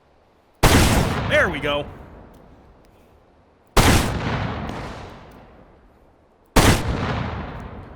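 A classic rolling block rifle fires in the VR shooting game H3VR. Three loud single shots come about three seconds apart, each with a long, fading echo, and a voice speaks briefly after the first.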